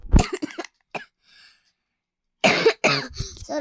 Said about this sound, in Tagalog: Sorry guys, inuubo ako.